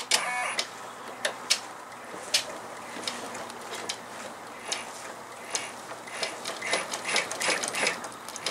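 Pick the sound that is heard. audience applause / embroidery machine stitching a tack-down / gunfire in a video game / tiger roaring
embroidery machine stitching a tack-down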